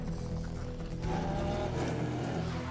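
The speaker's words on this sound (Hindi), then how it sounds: "बाकी रेसर भी ब्रेक लगा देते हैं और उनकी गाड़ियां घूम जाती हैं" Race cars braking hard and spinning out on a track, a continuous loud, dense roar of engines and tyres that thickens and shifts after the first second and holds to the end.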